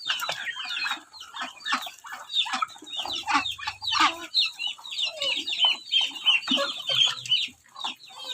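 Several chickens cluck busily and continuously at close range while being fed alongside ducks, a chattering flock with overlapping calls and brief pauses.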